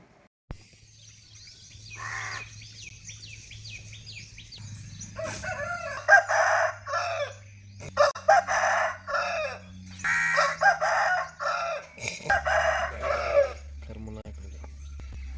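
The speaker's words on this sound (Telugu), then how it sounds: "ఇక్కడ కోళ్ళు అరవడం గువ్వలు పిచ్చుకలు అరవడం విలేజ్ వాతావరణం" Roosters crow repeatedly, loud and nearby, with hens clucking and small birds chirping in the background of a quiet rural setting.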